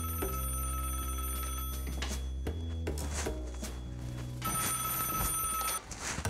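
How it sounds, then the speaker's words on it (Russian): An old-style telephone bell rings in repeated bursts, loud and near, with a few short pauses between rings. "Следователю позвонил старший уполномоченный ОБХСС Андрей Зазуля."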